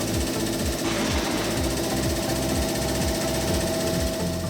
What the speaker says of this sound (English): To raise the LT35A, simply connect your airline. Then remove the handheld pendant control and press and hold the up button.